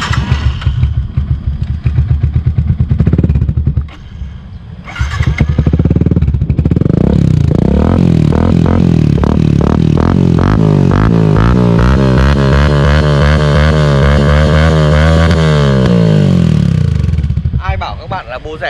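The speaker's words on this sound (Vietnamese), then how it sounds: "mình nổ thử tiếng bô cho anh em nghe nhá." Modified Yamaha Exciter 150 motorcycle with a cheap copy aftermarket exhaust, loud engine revving up in rising and falling sweeps for over ten seconds after a brief idle, close up, with someone talking over it.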